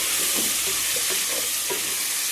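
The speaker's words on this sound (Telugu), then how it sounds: "బాగా వేగాలండి." Chicken curry for biryani frying and sizzling in a pan, a steady hiss with soft stirring scrapes throughout, close and fairly loud, no voices.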